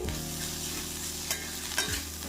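Bitter gourd frying in a pan with nigella seeds, garlic and onion, giving a steady close sizzle throughout, with a couple of sharp scrapes of stirring near the end.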